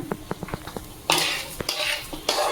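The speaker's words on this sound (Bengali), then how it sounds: "ভালো করে আমি মানে নেড়ে চেড়ে নেব ভালো করে ভেজে নেবো" A metal spoon scraping and clinking inside a cooking pot as rice for Bengali khichuri is stirred and fried over a medium flame, with several sharp taps followed by louder scraping sweeps, close and clear.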